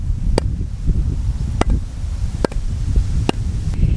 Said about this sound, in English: Here's the sound of very moist wood.